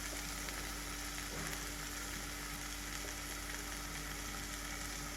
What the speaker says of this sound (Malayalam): നമുക്കൊന്ന് ഇളക്കി കൊടുക്കണം.